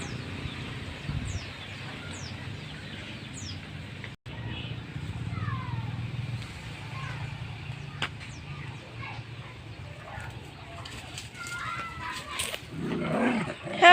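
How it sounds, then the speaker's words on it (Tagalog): Dogs snarl and growl at each other in a brief scuffle, with birds chirping and people talking in the background. "Huwag kayo mag-away, mga aso kayo."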